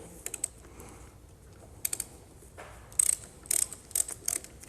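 A 17 mm ratchet wrench loosens a banjo bolt on a Cummins fuel injection pump: close, crisp bursts of ratcheting clicks in short sets separated by pauses, growing denser toward the end.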